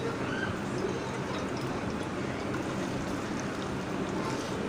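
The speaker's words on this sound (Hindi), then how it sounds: "भिंडी को हम अपना शैलो फ्राई कर लेंगे।" Okra frying over high heat in a shallow layer of hot oil, a dense, steady crackling sizzle that holds evenly throughout with no talk.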